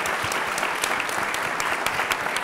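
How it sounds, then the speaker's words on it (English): Dense, steady applause from an audience for a panel at a prison reform summit, a continuous wash of many hands clapping at full strength for a few seconds. "give this panel a round of applause"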